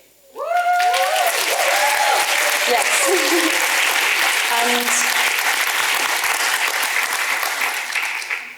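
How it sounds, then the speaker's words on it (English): Loud, sustained applause from an audience at a community climate and green-transition session breaks out at once and holds steady, with a voice speaking briefly over the opening moments. "every time people applaud"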